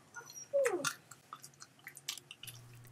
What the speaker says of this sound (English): He chews loud.